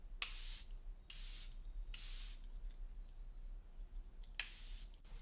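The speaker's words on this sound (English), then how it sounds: "set the face with Charlotte Tilbury's Airbrush Flawless Setting Spray" Charlotte Tilbury Airbrush Flawless Setting Spray misted onto a face in four short, close hissing bursts about a second apart, with faint clicks of the pump in a quiet room.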